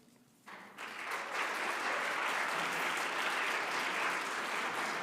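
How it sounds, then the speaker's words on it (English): Applause at a city council regular meeting swells suddenly from a quiet room into sustained steady clapping from the audience, filling the chamber for several seconds. "refrain from applause, I would really appreciate it"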